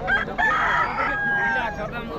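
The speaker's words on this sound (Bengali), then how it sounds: "পুরা মুরগ লড়াই হচ্ছে দাদা" A rooster crows loudly and close by at a village cockfight near Purulia, one drawn-out call lasting about two seconds.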